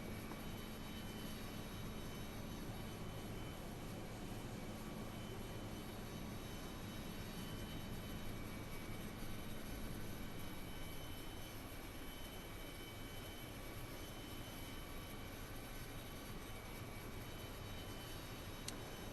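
The engine of an Aerosoft CRJ jet hums in a flight simulator game as a faint, steady broadband whoosh with a constant high whine, continuous and unchanging with no voices.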